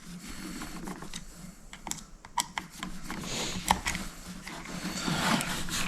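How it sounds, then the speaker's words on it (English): Close, quiet clicks and small ratcheting scrapes come from a screwdriver turning screws out of a heat tape plug, irregular and fiddly, with faint handling noise between them. "Unscrew these two screws here."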